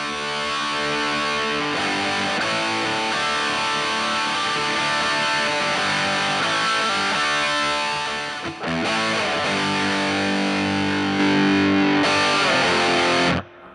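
A heavily overdriven electric guitar through a Compulsive Drive pedal plays continuously, thick and distorted chords ringing loud and close, with a brief dip before a final sustained strum.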